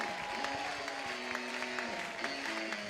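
Softball crowd applauding at an Alabama versus Oklahoma game, a steady broad wash of clapping over background crowd noise with a sustained tone, continuing throughout.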